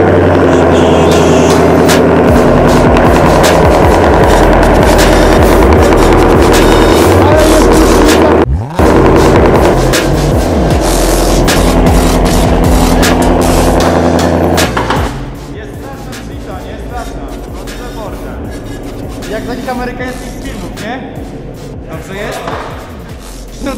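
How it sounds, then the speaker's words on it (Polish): A loud, modified Ford Mustang Stage 3 with about 500 HP and a new exhaust cold-starts on a dyno, roaring with heavy rumble and sharp bangs, then settling to a lower, rough idle. "pokażę, jak wygląda cold start na nowym wydechu"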